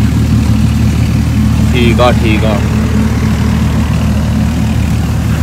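A Farmtrac 60 Supermaxx tractor engine idles with a steady, loud low-pitched diesel rumble throughout, while someone speaks briefly over it.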